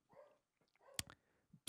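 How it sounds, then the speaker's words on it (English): A dog lets out a few sharp barks, loud and fairly close, after a stretch of quieter low sounds. "Sorry if you hear my dog barking."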